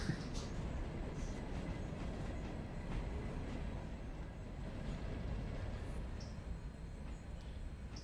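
A steam-era locomotive with a caboose rolls along the track in the railroad simulation game Railroader, a steady dense rumble of wheels on rails with faint clatter, continuous and fairly close.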